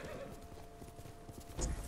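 A horse in a samurai video game trots up with rapid clip-clop hoofbeats and ends with a short whinny, quick and fairly close over game ambience.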